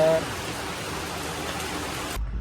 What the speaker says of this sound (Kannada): ನೈಟು ಬಂದರೆ ಸಿಕ್ಕಾಪಡೆ ಮಳೆ